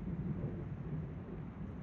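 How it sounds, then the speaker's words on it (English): Low rumbling thunder from an approaching storm, a continuous deep roll heard at a distance and fairly faint, with no other sound over it. "Yeah, I hear that thunder, clouds moving in."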